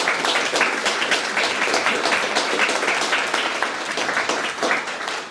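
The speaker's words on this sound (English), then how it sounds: "Can we get a final round of applause for our panelists" A crowd applauds panelists steadily throughout, dense clapping from many hands at an even level with no talking over it.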